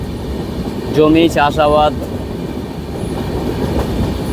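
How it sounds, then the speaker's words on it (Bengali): East Coast Express running on rails, a steady rumbling rush of the moving train with a brief rhythmic clatter, heard from inside under a voice talking. "আর তার মাঝের থেকেই ট্রেন ছুটে চলেছে নিজের লক্ষ্যে।"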